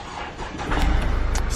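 A Mercedes-Benz GLK with a slightly discharged battery starts up close by: a soft hum gives way to a louder engine catch that settles into a steady running rumble.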